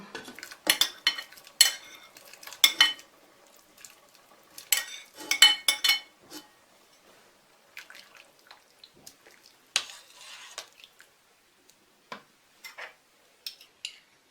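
Spoon clinks and scrapes against a pot as sliced sausage goes into boiling żurek soup, a series of sharp, close metallic knocks in uneven clusters with quieter gaps and no talking.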